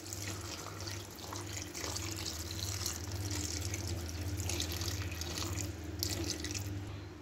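Tap water runs steadily into a cooking pot for paksiw na bangus with vegetables and tomatoes. The splashing stream is soft and continuous under a low kitchen hum, with no talking.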